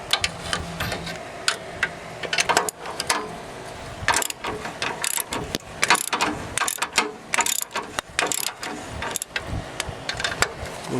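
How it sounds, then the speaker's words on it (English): Ratchet loosening decade-old exhaust header bolts on a 1996 Chevrolet Impala SS, giving repeated clicking pawl bursts and metallic turning noises that come in uneven spurts throughout, close up and with no talking. "So, you get all 3 of these bolts loose."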